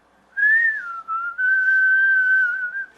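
A single clear, sustained whistled tone used as a sound effect in a Korean audiobook of a short story, sliding slightly in pitch with a brief break, close and alone without speech.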